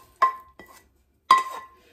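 Sautéed onion and carrot scraped from a pan into a pot of soup with garlic dumplings, three sharp metallic clinks and knocks of a utensil on cookware, close and clear with a ringing tone and no talking.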